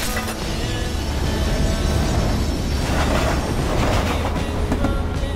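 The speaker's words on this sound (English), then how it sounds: "Train's coming! That's the right cable." A train passes close by with a loud, steady roar and rattle of wheels on the rails. The noise has a continuous clatter throughout and no pause.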